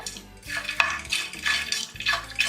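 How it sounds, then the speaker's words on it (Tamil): Roasted makhana (fox nuts) seasoned with pepper and salt is stirred in a pan with the stove switched off, giving close, repeated metallic scraping and rattling sweeps that rise and fall in a few strokes. "ஆஃப் பண்ணிட்டு அதுக்கப்புறமா மிக்ஸ் பண்ணி விட்டுக்கோங்க"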